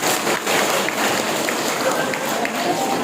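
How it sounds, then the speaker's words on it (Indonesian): A room full of school principals at a training session claps together in a dense, sustained burst of applause that stays loud and even throughout. "Ini tolong tepuk tangan dulu."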